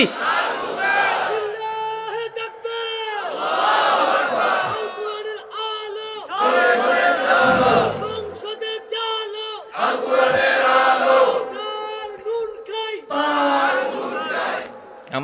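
Crowd chanting a slogan in unison at a religious gathering, loud voices rising in repeated shouted phrases with short gaps between them, several rounds over the span.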